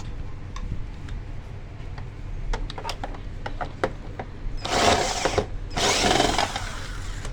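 A screwdriver pries up the plastic casing of a Samsung vacuum cleaner: a run of sharp, scattered clicks and ticks, then two loud, close scraping bursts as the housing is forced open.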